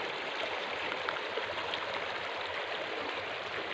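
A stream flows in a steady, even rush of water, close and continuous with no talking over it.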